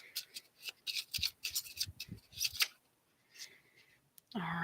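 Rapid papery riffling of playing cards in several short bursts, close by, followed by a brief louder rustle at the end.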